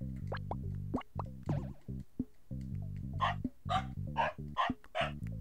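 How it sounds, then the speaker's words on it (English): Small cartoonish dog barks from the game Pikuniku, a quick run of bright yips and woofs in an uneven bouncy rhythm with light plopping sounds, close and fairly quiet with no talking. "Like a doggy. I'm a doggy."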